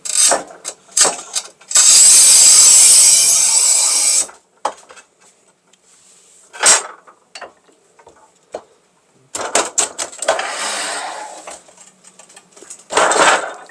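A Shijing 3025 manual tile cutter works across a 10 mm matte black porcelain tile, with a long grinding scoring stroke followed by scattered sharp clicks and ratcheting, louder bursts of scraping near the end.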